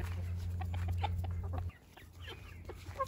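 Chickens cluck steadily while pecking at carrot pulp on a homestead, several birds at close range with a low hum under the first half that then drops away.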